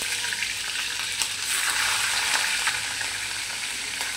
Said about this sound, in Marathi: मोहरी तडतडली की त्यामध्ये थोडंसं जिरं टाकल्यानंतर आपण त्यामध्ये टाकतोय मिरची